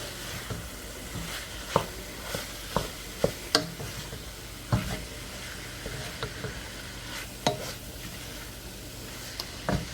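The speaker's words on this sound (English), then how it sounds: "now we're going to add our sausage and ground beef back into the pot and stir it up" A spoon stirs sausage, ground beef, mushrooms and cooked-down onions in a pot, giving soft scrapes and knocks at irregular intervals over a faint sizzle.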